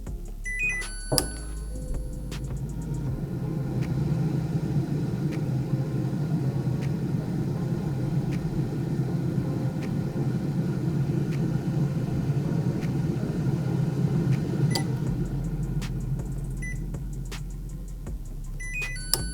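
A COSORI Turbo Blaze air fryer runs on its air fry program, giving a steady whirring fan hum with low rumble that holds evenly for about fifteen seconds, framed by faint clicks at the start and end.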